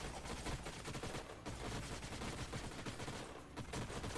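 A unit fires a volley of shots in the sci-fi strategy game Age of Wonders: Planetfall, dense continuous gunfire crackling steadily throughout with no pauses.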